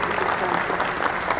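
An audience at a book presentation breaks into dense, sustained applause, many hands clapping together at full strength for the whole moment.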